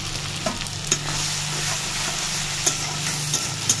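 Chopped tomato and turmeric powder fry in hot oil in a pan. A dense, even sizzle continues throughout, with a few sharp spoon clicks as the mixture is stirred.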